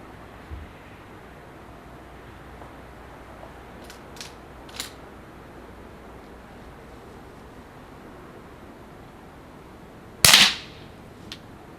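A quiet gun fires short Eley rimfire rounds, giving one sharp crack near the end after a few faint clicks, against low background hiss.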